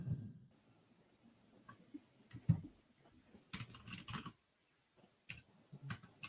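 Quiet, scattered keystrokes on a computer keyboard, irregular clusters of soft clicks with brief pauses between them.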